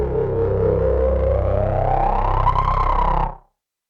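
A Fred's Lab Manatee synthesizer plays a Monster ADM patch layered with a Black Hole patch, a thick sustained drone whose pitch sweeps upward for about three seconds before cutting off abruptly, loud and alone.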